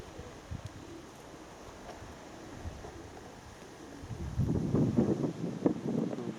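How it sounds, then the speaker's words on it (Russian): Strong wind buffets the microphone outdoors during a flight of Baku pigeons, a steady low rush that swells into heavier, gusty roaring in the last couple of seconds. "Ну, ветер вот такой."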